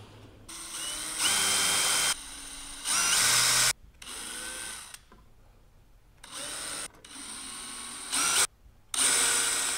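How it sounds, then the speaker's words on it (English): Power drill drilling into aluminum on a Zenith CH 750 CruZer kit aircraft, in several bursts, high whining spin-ups separated by short quiet gaps, close and loud. "Now I can go ahead and drill that"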